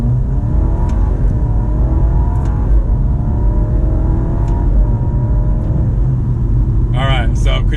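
A 2021 Alfa Romeo Giulia accelerates with a steady mid-range engine drone and road rumble that rises in pitch, easing briefly at each gear shift, heard from inside the cabin; a short burst of speech comes near the end.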